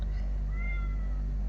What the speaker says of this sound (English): my cat could hear me talking, so she's now out the front meowing